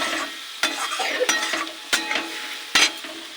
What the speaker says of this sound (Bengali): ডালটাকে খুব কষিয়ে নেব।